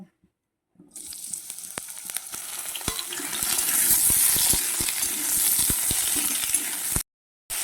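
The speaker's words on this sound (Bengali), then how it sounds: "প্রথমেই আমি ঝিঙেগুলো ভেজে নেব" Ridge gourd frying in mustard oil, a steady loud sizzle that swells and holds for several seconds, with occasional stirring clicks and a brief silence at the start and end.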